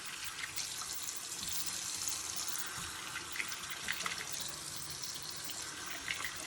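Warm water runs steadily from a tap over a shaving brush, a continuous close hiss that holds through the whole stretch with small splashy flickers.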